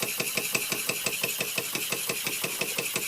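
A 1926 Bing toy steam engine drives a Bing doll grinder, making a rapid, evenly spaced chuffing beat that runs steadily and close up with no voices.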